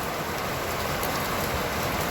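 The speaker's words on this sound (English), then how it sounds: "But it's been raining all day like this." Steady rain pours on a busy street on a wet afternoon, a dense, even hiss of drops hitting pavement that fills the whole clip with no pauses and no voices.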